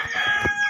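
A rooster among young free-ranging chickens crows briefly and moderately loud nearby, a short clipped call.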